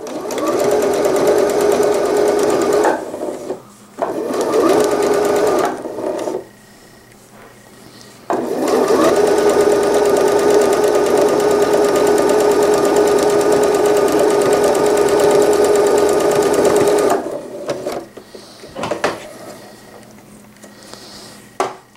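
A sewing machine stitches a curved seam along the top of an infant slipper's fabric, running in long steady bursts with brief pauses between runs, loud and close.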